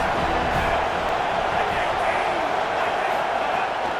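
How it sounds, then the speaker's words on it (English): Loud, unbroken roar of a football stadium crowd during a game, a dense low rumble of many voices holding steady with no breaks or single standout sounds. "This crowd trying to make life miserable for this offense"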